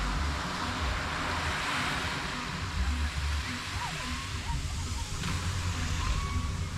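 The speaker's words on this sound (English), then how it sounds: "Not sure if you can hear me for the waves." Ocean surf breaking on Playa Maguey beach in Huatulco, Mexico, a steady broadband wash of waves that fills the whole stretch, loud and continuous with gusty wind noise against the microphone.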